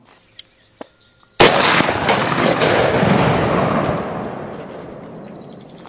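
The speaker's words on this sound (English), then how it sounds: "It's full of explosions." A sudden loud blast erupts from near silence and rolls into a long decaying roar, like an explosion or heavy gunfire, preceded by a couple of faint clicks.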